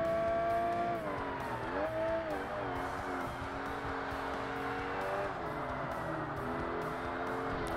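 A race car in Forza Motorsport, hard difficulty, roars steadily with engine pitch rising and dropping through gear shifts and braking into a downhill corner, close and loud throughout with faint tyre squeal.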